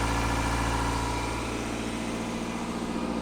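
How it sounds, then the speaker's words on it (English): A Toyota MR2 (W20) engine idling after a cold start at steady, slightly raised revs, a constant low rumble close by with no talking. "The RPM's a little high, and it's dropping it down as we warm up the engine"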